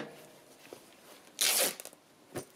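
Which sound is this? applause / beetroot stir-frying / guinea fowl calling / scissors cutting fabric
scissors cutting fabric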